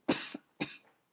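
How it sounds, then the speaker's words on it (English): Two close, sharp coughs about half a second apart from a man, each a short harsh burst with a brief tail, heard alone in a quiet room. "I think I'm about to start coughing"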